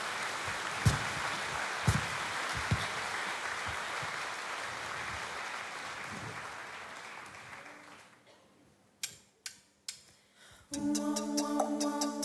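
Crowd applause for the band Nando at the BigBank Latvijas Pērles festival, a dense clapping wash that fades out, then a few sharp hits and music begin.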